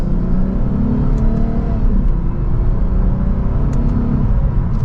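A 2024 Lexus IS 350 F Sport accelerates in second gear in Sport S Plus mode, giving a loud, steady engine and exhaust rumble with a rising whir, heard from inside the car and with no talk.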